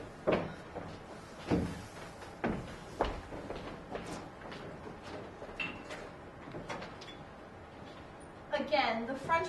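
Door sounds from a radio drama: a back door handled with several soft knocks and bumps, then a clearer latch-like rattle near the end, with voices speaking across it.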